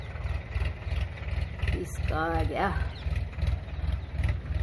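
A tractor engine idling nearby with a steady low chugging pulse throughout, while someone speaks briefly over it in the middle.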